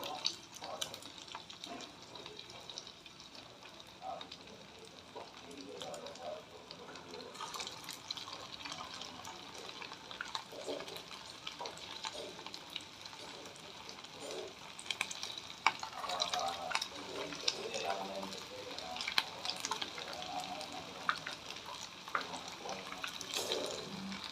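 Small mutton kola balls drop into hot oil and fry with a steady bubbling sizzle close by, punctuated by occasional light clinks, growing slightly busier toward the end.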